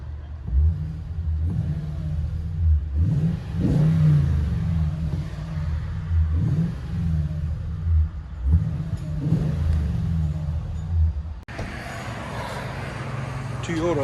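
Toyota Tundra 5.7L V8 with a Magnaflow dual-in, single-out exhaust revving, heard from inside the cab: a deep muffled rumble rising in several repeated rev swells before a sudden shift in the noise near the end.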